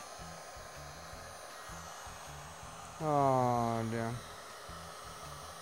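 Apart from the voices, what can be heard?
hair dryer heating shrink plastic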